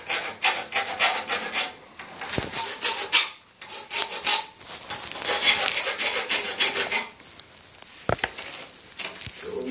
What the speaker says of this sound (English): So I gotta get all the burrs off of it.